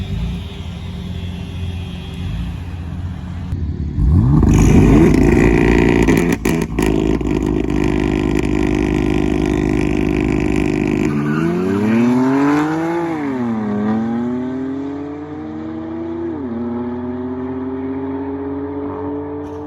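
Two BMW M4 Heritage Edition cars launch side by side on a straight, engines roaring loud, then revving through gear changes as they pull away into the distance.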